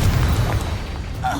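A Confringo spell explodes in Hogwarts Legacy, a brief heavy booming blast with a rumbling low tail, loud and close.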